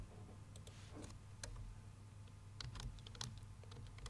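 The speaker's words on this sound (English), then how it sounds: "I'm typing here Yamuna," Soft keystrokes clatter on a computer keyboard in short irregular bursts while someone types into a table in Microsoft Word 2016. The quiet taps come close and carry no talking.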